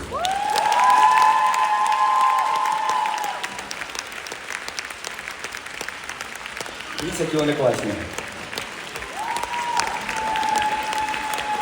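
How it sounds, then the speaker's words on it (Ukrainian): A concert audience applauds a children's vocal studio with a steady, dense clapping that runs the whole time, while a presenter talks over it on a microphone. "Під ваші оплески."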